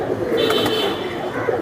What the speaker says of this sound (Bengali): এই যে দেন 2টা কবুতর, সিলভার কবুতর, সিলভার